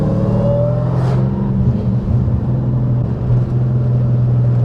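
A supercharged Dodge Hellcat with an FBO manual 6-speed holds a loud, steady rev, its engine drone and supercharger whine filling the cabin without a break.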